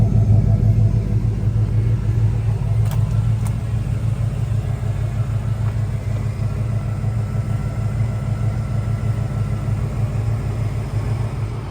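A 1990 Ford Bronco's engine runs steadily while the truck drives, giving a loud, continuous low rumble with road noise that holds throughout with no break.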